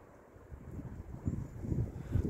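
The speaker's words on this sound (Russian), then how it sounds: "Дует сильный ветер" Gusty wind buffeting outdoors at about minus 2 degrees Celsius, a low rumbling roar that swells in uneven surges, fairly faint and with no other sounds over it.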